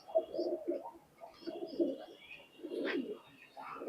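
Imported teddy pigeons of an Oman bloodline coo softly in short repeated bursts at close range, with faint background noise and some quiet voices nearby.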